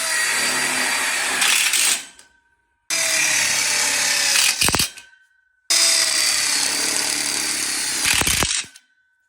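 A power drill drives screws into a tube frame for a diagonal corner module, whining loudly in three bursts of about two seconds each, with the motor winding down and a brief quiet between runs.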